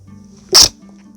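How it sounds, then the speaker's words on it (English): A single sharp human sneeze bursts out loud and close after a quiet, humming room background, lasting only a moment before the room falls quiet again. "I gotta sneeze."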